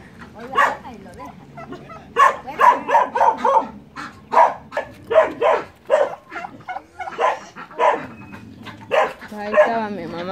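A dog barks repeatedly in uneven bursts, fairly close, with yips mixed in and people talking over it.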